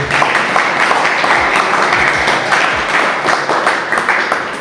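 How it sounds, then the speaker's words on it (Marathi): Audience at a residential National Service Scheme camp breaking into loud, sustained applause, a dense continuous roar of clapping close by. "म्हणून एकदा पण जोरदार टाळ्या होतो"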